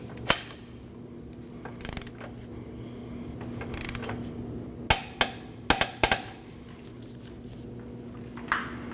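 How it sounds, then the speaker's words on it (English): A torque wrench tightens the lower ball joint castle nut on a 2003-2008 Subaru Forester during a control arm replacement, giving a series of sharp metallic clicks and clacks spaced irregularly over a faint steady hum. "Then you want to tighten your lower ball joint castle nut to 30 foot-pounds."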